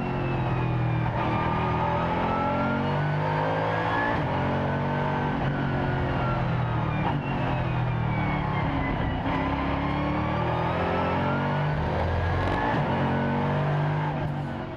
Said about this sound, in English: Let's ride now on board with car number 90, the Mercedes SLS AMG GT3.